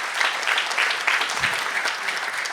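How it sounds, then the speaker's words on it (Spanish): A church congregation claps during a sermon, a dense and fairly loud run of applause that holds steady throughout with no voices on top. "Den un aplauso al Señor si quiere"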